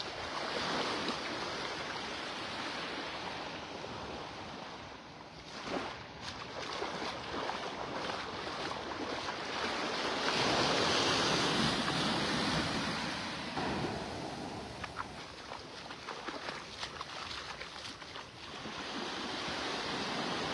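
Steady wash of surf rolling onto a beach at Pelican Bay in North Naples, Florida, near high tide, a broad continuous roar that swells and eases, with no voices.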